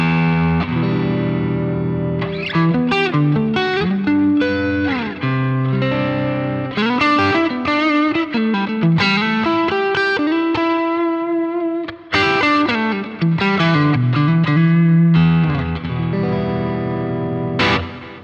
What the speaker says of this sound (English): Now let me play the Telecaster first.